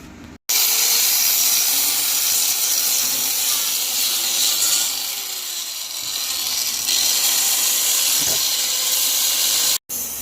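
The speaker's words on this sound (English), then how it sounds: "We're going to grind that lip back so it doesn't cut our tire" An angle grinder grinding down a metal lip in the trunk and hatch area of a Mustang under restoration: a loud, continuous harsh whine and hiss that runs almost unbroken, starting and stopping abruptly.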